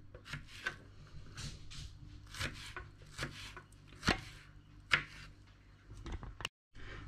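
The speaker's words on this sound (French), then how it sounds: "nous allons pouvoir couper nos fraises en petits carrés" A knife cuts strawberries into small squares on a board, making soft, irregular taps and rubbing scrapes, close and fairly quiet, with a few sharper knocks. Nobody speaks.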